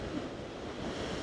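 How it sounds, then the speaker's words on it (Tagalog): Ocean waves break hard against the shore near Nusa Penida in a steady, loud wash of surf mixed with wind rumble across the microphone. "Ang lakas ng hampas ng alon"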